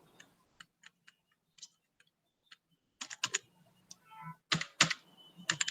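Someone types on a computer keyboard, entering router commands in a notepad. Sparse single key taps come first, followed by a quicker burst of clicks. The typing is close and quiet.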